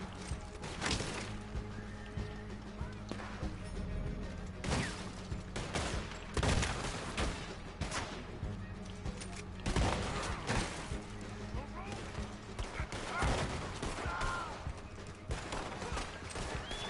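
Shotgun blasts ring out in Red Dead Redemption 2, with several heavy, spaced bursts over a busy game backdrop and horse sounds now and then, while someone talks throughout.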